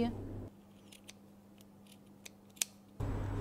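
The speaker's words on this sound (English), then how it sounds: "Do not forget to cut these extra pieces." Sharp scissors snip through cashmere fabric pieces while shaping the shoulder details of a jacket, giving a few crisp, close cuts over a low steady hum.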